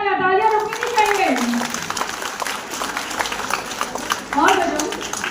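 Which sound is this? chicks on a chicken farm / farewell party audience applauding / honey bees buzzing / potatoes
farewell party audience applauding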